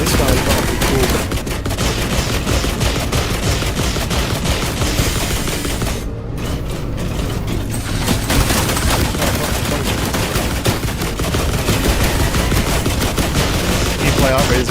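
Sustained rapid gunfire from a big gun in a survival video game, dense bursts rolling almost continuously at high volume with a brief gap midway, layered with game effects.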